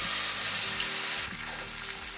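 Batter is poured into hot oil tempered with cumin, mustard seeds and asafoetida, giving a continuous watery hiss and bubbling sizzle for a couple of seconds with no talking.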